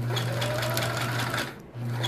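A sewing machine steadily stitches binding onto a quilt, a loud, close, continuous motor hum and needle chatter that briefly pauses near the end before running again.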